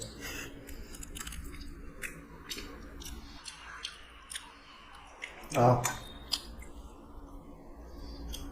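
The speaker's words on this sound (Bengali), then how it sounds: "চলো একটু মিষ্টি খাই নাকি আমি কোনটা খাবো কালাকান্দা খাই" Someone chews kalakand sweets with soft, wet mouth sounds and one sharper bite near the end, faint and close while people talk nearby.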